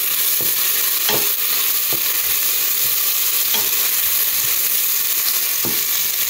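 Steady loud frying sizzle in a pan fills the whole stretch, with a few sharp spoon scrapes of stirring cutting through at intervals; no voices.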